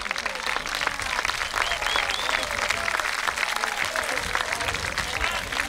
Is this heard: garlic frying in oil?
no